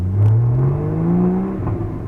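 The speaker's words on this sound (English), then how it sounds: "start recording again, so you guys can hear the engine a bit more." A Porsche fitted with an Akrapovic exhaust, driving along with its engine droning loud and close, the pitch rising steadily as it accelerates before easing off.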